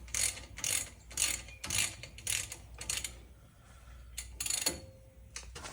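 A ratchet loosens the hex bolts of a brake caliper on a Dana 30 axle with a series of close, sharp clicking strokes in an even rhythm. There is a short pause midway before a few more strokes follow.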